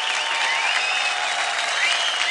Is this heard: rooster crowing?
no